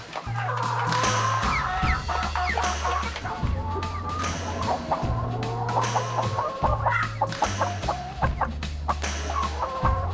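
Farm hens cluck and chatter continuously close by, with scattered squawks and a rooster-like crow rising among them, over a repeated low mechanical hum that switches on and off in winter housing.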